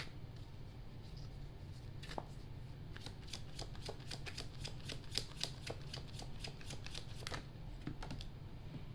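Tarot cards are shuffled close by, a flurry of quick, soft papery riffles and snaps, followed by a card being drawn, with no talking.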